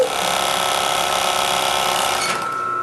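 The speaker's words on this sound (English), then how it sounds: "There's no reverse on this machine, so we just sew." An overlock sewing machine runs a seam with no reverse, a loud continuous buzzing whir held close for nearly three seconds before easing slightly at the end, with no voices.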